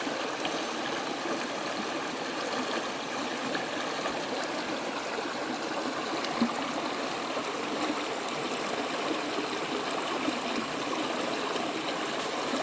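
Steady broadband rush of a flowing stream with murky water, close and continuous at an even level for the whole stretch, with no voices over it.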